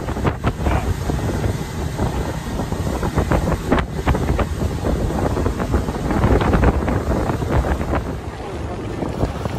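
A boat motor drones steadily across the water, mixed with gusty wind buffeting the microphone and the wash of waves, with no one speaking.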